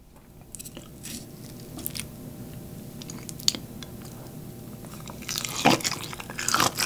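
Someone eats smoked whole pork belly in a mukbang. Close, moist chewing and soft crunching bites repeat steadily, growing louder and squishier toward the end.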